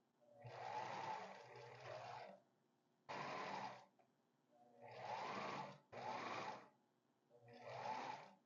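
A sewing machine sews an invisible zipper, running in several short bursts separated by pauses, with quick reversals for backstitching, close and steady.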